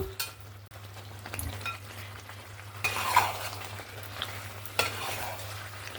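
Chicken curry with potatoes and capsicum being stirred in a pan, a soft steady sizzle of frying under scraping stirs and occasional clinks of a utensil against the pot, fairly quiet and close.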